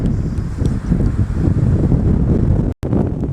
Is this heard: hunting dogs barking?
no